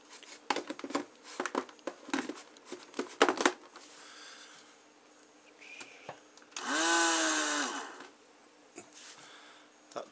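A battery-powered hover glider motor spins up in a rising, steady whine for a couple of seconds, set among scattered handling clicks and knocks.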